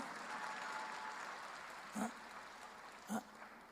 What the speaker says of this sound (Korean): 박수 치지 말래도 잘 치네.